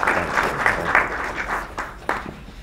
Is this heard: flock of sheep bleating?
no